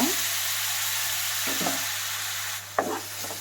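A sweet mixture roasting in a pan as a spoon stirs it, with a steady soft sizzle and a few scraping strokes, quiet and close, with no one talking.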